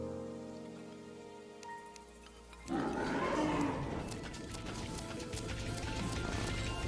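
Rain in the game Terraria with the Calamity mod begins partway through, a sudden swell of dense pattering rain noise that holds steady after a quieter stretch of game music.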